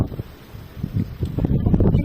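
Wind gusting in cold, snowy weather outdoors, a rough rushing buffet that swells and fades unevenly, hitting the microphone up close, with no clear voices.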